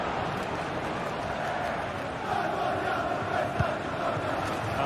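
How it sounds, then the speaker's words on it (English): Dense, steady roar of a stadium crowd in a football video game, loud and continuous with a slight swell midway, a broad wash of massed voices and no commentary over it. "just listen to this crowd"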